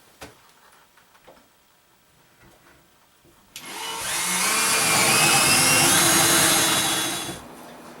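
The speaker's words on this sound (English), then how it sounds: "I'm just going to drill these 2 holes." After a few light knocks and handling sounds, a power drill whirs loudly and steadily for several seconds as it bores holes in wood, then winds down.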